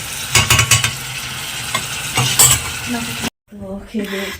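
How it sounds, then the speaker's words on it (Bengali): Bottle gourd fries in a small pot in a home kitchen, with several sharp metal scrapes and clinks of stirring over a soft sizzle, close, before the sound cuts to quiet background noise. "এই ছোট হাঁড়িতে হচ্ছে ভাত আর এদিকে লাউ ভাজা"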